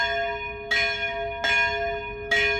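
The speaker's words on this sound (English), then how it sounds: "Over there is the 6 o'clock bell" Church of St. Michael the Archangel's bell in Vilnius, Lithuania, rings for six o'clock: three loud, ringing strikes about three-quarters of a second apart, each leaving a sustained metallic hum, with no talking.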